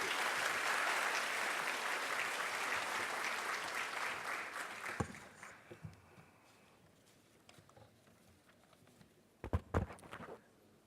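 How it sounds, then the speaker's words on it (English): An audience at an economic conference applauds a speaker being welcomed on stage, sustained clapping that fades after about five seconds, followed by a few sharp knocks and thumps. "Ladies and gentlemen, please show your appreciation with a round of applause."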